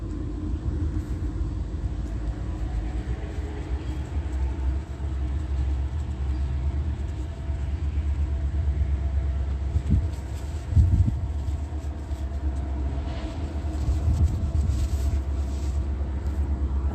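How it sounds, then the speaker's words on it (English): A worn freight train runs along the tracks at night, a continuous low rumble and drone with faint clanks and a few brief knocks, steady and fairly distant, with no one talking. "this is just a raggedy train that's running back and forth on the tracks. Not a passenger train"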